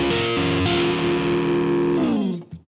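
Electric guitar dialed for a particular band's tone through a Line 6 Firehawk amp modeler with treble and presence set high: a single loud distorted chord rings out and sustains for over two seconds before being choked off.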